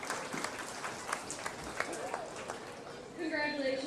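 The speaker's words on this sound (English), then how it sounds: "Let's go ahead and give those young ladies a round of applause." Crowd applause for young exhibitors in the show ring at the Preston County Buckwheat Festival livestock show, a moderate steady patter of clapping with voices mixed in and talk rising near the end.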